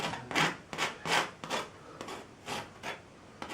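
Paint being scraped off a canvas painting of the northern lights over Alaska, about seven short, rhythmic scraping strokes close up, each a rasping swipe with brief pauses between, no talking.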